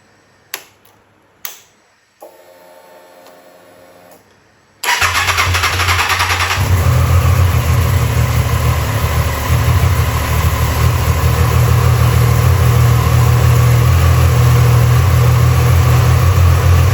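A motorcycle engine fires up after a few soft clicks and a whirring fuel pump priming, then settles into a loud, steady close idle with no talking.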